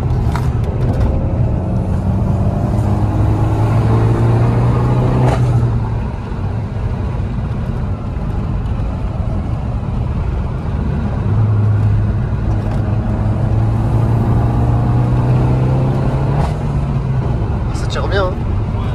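Peugeot 308 GTI 2016 engine pulling hard in sport mode, a loud steady in-cabin drone with rising intake tones across two acceleration runs, occupants talking over it.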